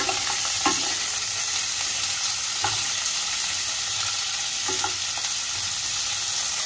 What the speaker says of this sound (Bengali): ফুলকপিটা ভাজতে ভাজতে এরই মাঝখানে আমি চিনি বাদামটাও ভেজে নেব